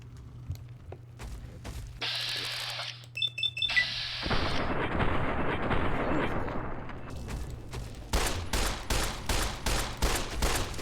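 Gunfire in the Fallout: New California mod, with rapid bursts and single shots, loud and close, ending in a rhythmic string of evenly spaced reports, with game sound effects and a voice in the background.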